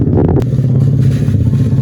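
A motorcycle engine rumbles loud and close in a rural Sundanese setting, with a steady low drone and faint clatter throughout.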